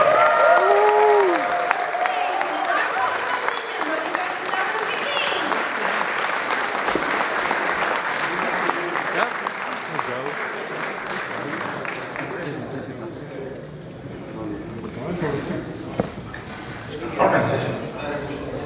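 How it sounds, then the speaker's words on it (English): Audience applause at BronyFair 2016, a large crowd clapping loudly and continuously, fading slightly midway then swelling again, with speech heard over it. "Big applause."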